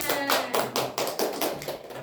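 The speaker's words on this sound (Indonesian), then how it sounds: "Oke, tepuk tangan." A class of pupils claps hands together in rhythm during a lesson, about eight evenly spaced group claps in two seconds, moderately loud in a room.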